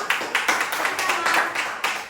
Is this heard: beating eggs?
no